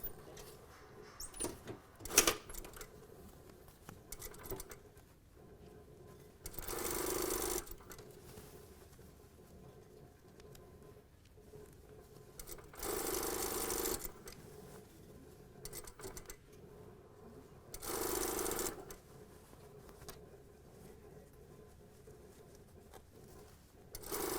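Sewing machine stitching the sleeve of a jacket lining: three separate bursts of steady mechanical whirring, each lasting a couple of seconds, with quiet fabric handling and small clicks in between.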